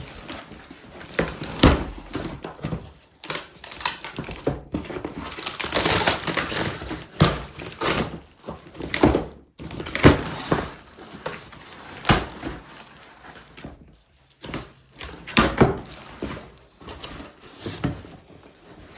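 A wooden wall shelf is unboxed as tape and plastic wrap are cut and torn away, giving close, crisp crinkling, ripping and scraping bursts in an irregular rhythm with short pauses.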